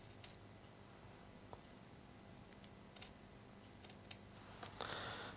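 Scissors snip through organza ribbon in a few faint, separate cuts spread across quiet, with a slightly louder burst near the end.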